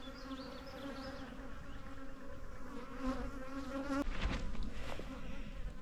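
Honeybees in a bee yard buzz close by in a thick, droning swarm, the hum wavering and growing louder near the end with a few soft knocks.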